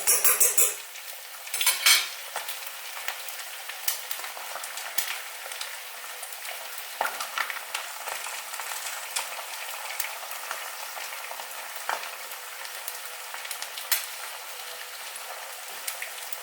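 Eggs frying in a stainless steel pan with the heat already switched off give a continuous soft sizzle. Sharp metallic clinks and utensil scrapes come near the start, then occasional light taps follow over the hiss.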